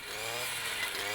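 A brush cutter's saw disc whines steadily at high revs while cutting young trees during stand thinning, a loud continuous engine drone that holds with slight pitch shifts and no break.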